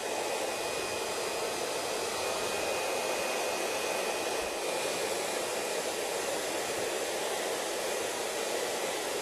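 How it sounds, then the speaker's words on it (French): A hair dryer runs at maximum heat and maximum fan speed while styling hair, giving a constant, loud, even whoosh of airflow that never varies over the whole stretch. "Nous allons mettre la chaleur maximum du sèche-cheveux et la ventilation également au maximum pour que l'air puisse bien pénétrer"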